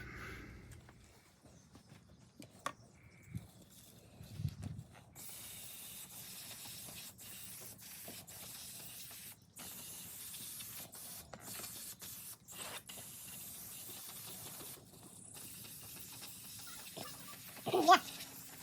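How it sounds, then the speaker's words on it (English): Spray paint hissing onto Cadillac seat rails in bursts of broadband hiss, with the loudest bursts near the end and softer handling noises and pauses between them. "So I'm gonna have to paint it."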